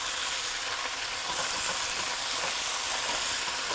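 Garlic and bok choy fry in oil in a pan tilted over a flame, making a continuous, close, bright sizzle and hiss without any talking.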